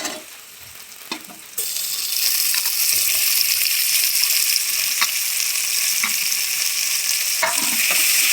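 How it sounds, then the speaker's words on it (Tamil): Onions and tomatoes sauté for chicken biryani. A quiet start gives way to a sudden, loud, sustained sizzle as the pan comes alive, with intermittent stirring scrapes and clicks, close up and without speech. "தக்காளி நல்லா வதங்கட்டும்"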